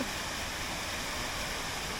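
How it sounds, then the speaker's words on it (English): A waterfall at Center Parcs Whinfell Forest splashes in a steady, dense hiss of falling water, continuous and fairly close, with no voices over it. "Playing in the waterfall like it's rapid."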